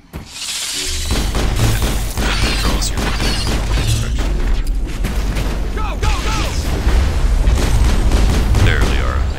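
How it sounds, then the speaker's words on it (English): A grenade explosion and gunfire in a Mass Effect firefight make a loud, continuous barrage of booms, rapid shots and clattering impacts, with voices calling out amid the chaos. "I used a grenade on someone that wasn't you."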